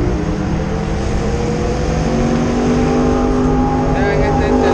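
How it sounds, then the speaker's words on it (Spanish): Heavy street traffic with motorcycles on 49 Avenida Sur in San Salvador, near the Cuscatlán stadium: a loud, steady roar of engines passing close by, with revving vehicles blending into continuous road noise. "Vean, este es el fuerte tráfico. Vean las motos como van de arriba."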